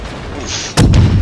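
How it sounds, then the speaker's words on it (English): Heavy naval gunfire from armor-piercing shells in World of Warships, with a loud boom bursting in about two-thirds through after a steady low background rumble, and a second blast following close behind. "Now you're shooting AP at me, go away."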